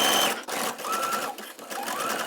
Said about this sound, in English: now we're just gonna top stitch over this so that everything is enclosed